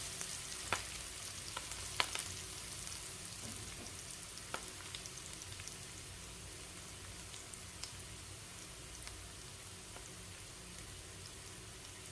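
Bitter gourd fries in a pan for a Kerala-style mezhukkupuratti, giving a soft, continuous sizzle and crackle with occasional faint stirring clicks, fairly quiet throughout.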